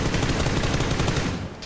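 Rapid automatic gunfire from the battle royale game PUBG, a loud continuous burst of shots that fills the whole moment and cuts off abruptly at the end.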